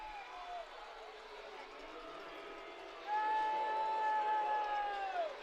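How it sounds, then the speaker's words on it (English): A hockey arena crowd reacts to a game-tying goal late in regulation, a broad distant roar that swells louder partway through and is joined by a long horn tone. A commentator talks over it. "The crowd reaction sells it all."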